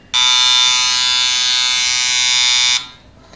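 An EBS-250 handheld inkjet printer purges ink with its trigger held down, giving a loud, steady electric buzz that starts abruptly, holds for about two and a half seconds, then cuts off.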